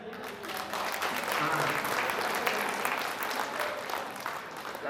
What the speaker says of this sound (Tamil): அப்போ அந்த கைதட்டு நம்மளுக்கு இல்லைனாலோ அந்த கண்ணதாசனுக்கு போகணுமா வேண்டாமா?